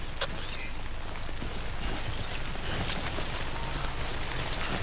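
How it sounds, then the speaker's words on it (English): Steady rain falls in the video game Death Stranding, a constant dense patter that stays even and unbroken with no talk. "Good thing it was raining."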